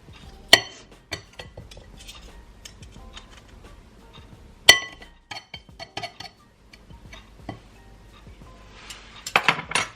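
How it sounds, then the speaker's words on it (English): A metal knife scraping and clinking against a bowl while pasta dough is pushed down, sharp clicks and taps scattered across the quiet, with two louder knocks standing out. "just use my knife to scrape that down"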